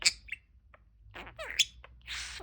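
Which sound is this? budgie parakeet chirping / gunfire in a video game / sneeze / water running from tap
budgie parakeet chirping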